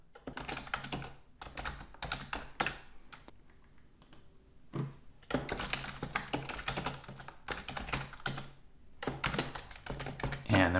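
Close keystrokes on a computer keyboard as a message is typed into Microsoft Teams, coming in quick bursts of rapid clicking separated by short pauses.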